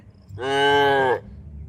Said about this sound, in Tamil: பார்த்தீங்களா எப்படி கத்துறாருன்னு ரொம்ப சவுண்டு விடும்